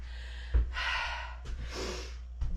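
Heavy, deep breaths after a bodyweight boot camp exercise, two long noisy inhale-exhale cycles with a sharp gasp at the start and another at the end, close and fairly loud, with no talking.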